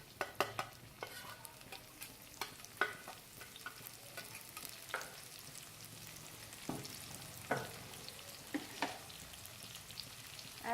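Garlic and chillies stir-fry in a hot pan for chicken hakka noodles, a soft sizzle broken by repeated scraping and tossing strokes of a utensil at close range, with no voices.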